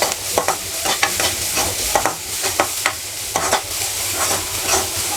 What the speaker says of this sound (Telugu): మంచిగా ఆనియన్స్ ఫ్రై చేసేసుకోండి.